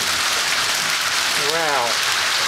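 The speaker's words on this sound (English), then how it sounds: "At last, we got some rain." Steady rain patter fills the air, with a brief tonal sound rising and falling partway through.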